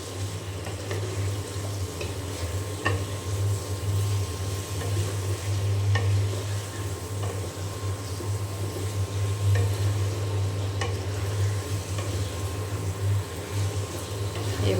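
Pangas fish and taro frying with spices: a steady sizzle under a low cooking hum with occasional soft scrapes and taps of a stirring utensil, even and continuous.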